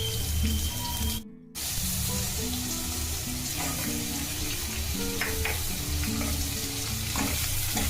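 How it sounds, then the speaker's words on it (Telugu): Onions and green chillies fry loudly in oil in a pan for a prawn curry, a continuous close sizzle with occasional stirring scrapes and one brief dropout. "మనకి ఈ ఆనియన్స్ అలాగే పచ్చిమిర్చి ఫ్రై అయ్యేలోపు"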